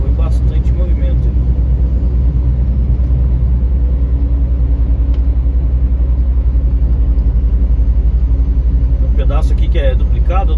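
Busy road traffic on a highway near Alagoinhas, Bahia, part divided and part single lane, makes a steady loud rumble of passing cars and heavy vehicles, with someone talking over it at times.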